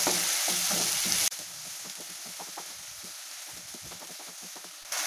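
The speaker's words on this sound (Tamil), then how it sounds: "அடுத்ததான் பொடியாக கட் பண்ண தக்காளி மூணு சேர்த்திக்கலாம். இப்போ தக்காளியும் நல்லா வதக்கிக்கலாங்க." Three chopped tomatoes sauté in hot oil for a pigeon pea masala curry, giving a steady, close sizzle with scattered soft stirring scrapes throughout, and no voices.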